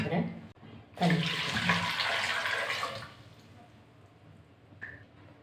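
Water is poured into a pressure cooker holding cut sweet potatoes, a loud splashing stream lasting about two seconds, then quieter handling sounds.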